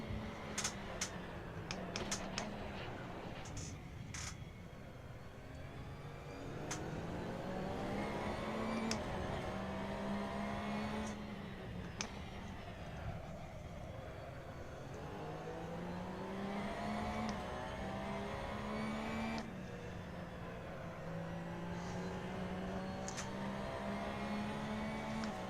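A BMW racing car in the Assetto Corsa racing game revs up and down through the gears over a long stretch, its engine note rising and falling at moderate volume, with scattered keyboard clicks and no speech.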